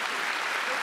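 Applause from an audience at a political conference in Lille, a continuous even wash of many hands clapping at moderate loudness throughout the brief moment, with no breaks or voices standing out.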